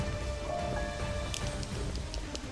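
Poison rain pouring in Octopath Traveler 2, a steady hiss of heavy rainfall on surfaces, continuous and fairly loud throughout with a few brief tonal game sounds on top.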